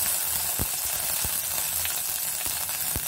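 Hot oil in a kadai, wet from a few drops of water off a hand, sizzling as it heats for a Malvani tarli fish curry: a steady bright hiss with several sharp spatter pops scattered through, close and with no talk.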